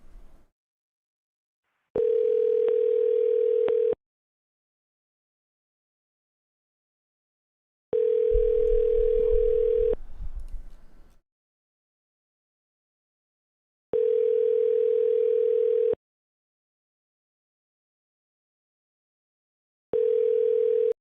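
A telephone line rings out unanswered: long steady tones of about two seconds repeat at even intervals with silent gaps between, and a brief low rumble follows one ring.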